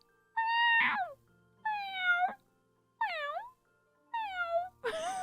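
A person imitates a cat yowling, giving four drawn-out, wavering meows close up, with a harsher, noisier fifth cry at the end.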